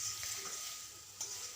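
An egg being scrambled and fried over low heat in a pan, with a soft, faint sizzle and light stirring scrapes and a couple of small taps, no talking.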